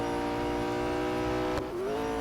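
A McLaren 650S GT3 engine in Real Racing 3 on iPad drones at a steady pitch, then breaks off briefly and dips lower before resuming, as if shifting gear.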